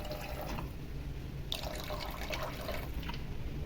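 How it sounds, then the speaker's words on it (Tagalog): Soy sauce pours steadily into a pot of pork hock, a continuous trickling splash with a few brief drips, close by and moderately loud. "Lagyan ng toyo."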